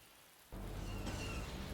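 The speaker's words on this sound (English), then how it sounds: "I do like the rain sounds." Steady rain from the video game Empire at War: a soft, even hiss that sets in abruptly after a brief quiet moment, then holds at a constant level with no voices.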